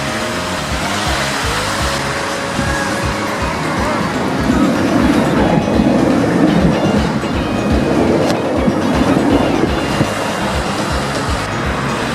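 A tram rumbles and rattles steadily over track and many points in a tram depot in Sofia, Bulgaria, with clattering wheel noise swelling midway, nearby and loud, no talk.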